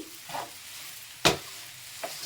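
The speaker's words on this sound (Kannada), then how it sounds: "ಶುಗರ್ ಪೌಡರ್ನ ಸೇರಿಸ್ಕೊಳ್ಳೋಣ ಈಗ ಚೆನ್ನಾಗಿ ಮಿಕ್ಸ್ ಮಾಡ್ಕೊಳ್ಳೋಣ" Sugar powder being stirred into a jackfruit laddu mixture in a pan: a few brief scraping strokes, one sharp louder scrape in the middle, over a soft steady sizzle.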